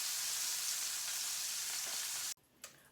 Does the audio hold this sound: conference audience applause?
no